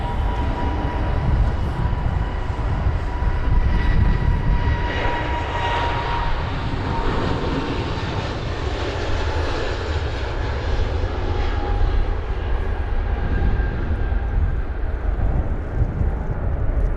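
A British Airways airliner departs London Heathrow, its jet engines roaring loudly and steadily throughout, a broad continuous rumble with no talk over it.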